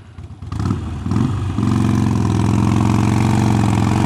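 A Harley-Davidson motorcycle engine rumbles loud and close, blipping a few times before settling into a steady, throbbing low-pitched roar under hard acceleration, with no speech.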